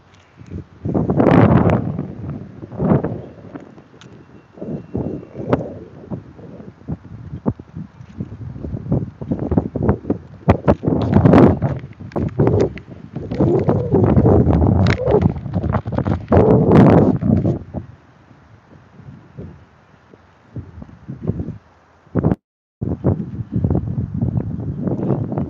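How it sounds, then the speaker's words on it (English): Strong wind buffets the microphone outdoors in a city, arriving in loud, irregular roaring gusts over about twenty-five seconds, with brief near-quiet dips between bursts. "Can't do nothing about the wind."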